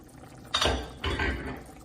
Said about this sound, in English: let's turn off the stove, cover the lid